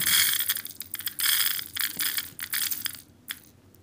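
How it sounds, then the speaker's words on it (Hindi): Crisp, close-up crunching of crispy fried moong dal, a rapid series of brittle crackles that thin out and stop near the end. "ये आवाज़ है क्रिस्पी मूंग दाल की"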